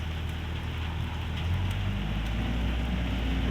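Steady rain pours at an earth-clearing site where a new Kobelco SK75-11 excavator works, a dense continuous hiss with a low engine rumble beneath.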